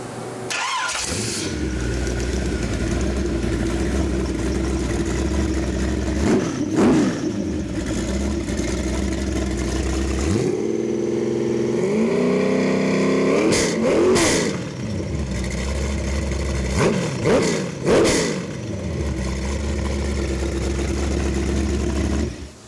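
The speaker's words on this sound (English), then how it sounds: "Again, crisp sound, motor's going to run fantastic in that car, the little C10." A 383ci stroker crate engine in a 1969 Chevrolet C20 pickup revs loudly and repeatedly, with sharp throttle blips rising over a steady rumbling idle and a brief lull between bursts, with no talking.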